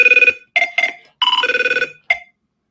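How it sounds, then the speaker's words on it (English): A phone rings loudly and close by in several short bursts of rapid trilling electronic tones, broken by brief pauses and ending in a final short chirp, with nothing else heard. "Like normal, my phone gonna ring when I'm trying to do something."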